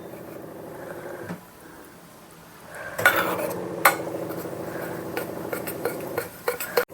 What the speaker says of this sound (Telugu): కొంచెం వాటర్ వేసి డైల్యూట్ చేసి పెట్టుకోవాలి.